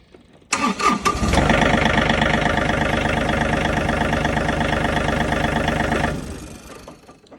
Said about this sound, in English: the tractor is back to starting and not giving the shift to neutral error